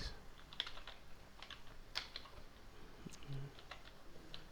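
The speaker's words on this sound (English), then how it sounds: "Then you type in the password." Keys on a computer keyboard are tapped to enter a password, producing a faint, irregular series of light clicks close by in a quiet room.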